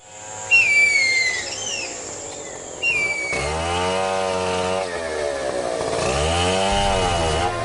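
A loggers' chainsaw cutting into cumaru hardwood in the Amazon rainforest, its engine whining and revving loud with rising and falling pitch sweeps, while birds whistle thinly at the start.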